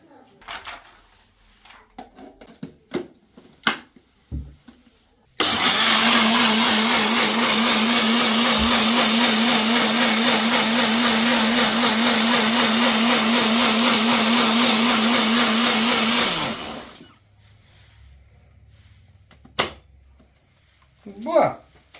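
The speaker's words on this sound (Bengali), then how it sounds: "চলো এবার আমি ব্লেন্ড করে নিই এটাকে।" A blender whirs loudly at a steady pitch for about twelve seconds, blending pomegranate seeds into juice. Quiet clinks and handling noises come before and after, and someone speaks at those times.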